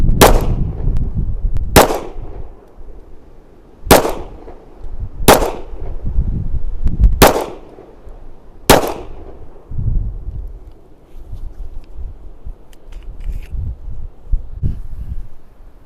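Six sharp, loud 1911 .45 ACP pistol shots fired outdoors at a target 10 yards away, spaced roughly one to two seconds apart, each a hard crack with a brief echo, followed by wind noise and quieter rustling, with no talking.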